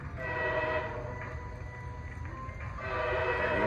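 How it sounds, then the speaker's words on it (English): A MARC commuter train led by an MP36 diesel locomotive, hauling 8000-series coaches with cab car 8049, rolls past with a sustained horn blast, heavy engine rumble and rail noise, loud and close, horn swelling again near the end. "Here's MARC train 877 headed by an MP36."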